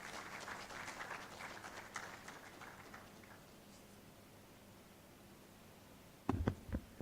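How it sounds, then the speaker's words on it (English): Audience at a civic hub gathering applauds to welcome a speaker, soft distant clapping that fades after a few seconds into quiet, followed by a brief loud thump near the end. "Let's welcome Madam Mabel with a hand of applause."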